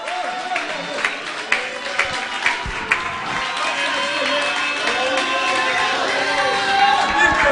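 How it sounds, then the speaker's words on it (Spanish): A church congregation at an annual retreat service in Bonaire breaks into applause, a dense crowd clapping that grows fuller toward the end, mixed with cheering and voices. "Dale un aplauso a él."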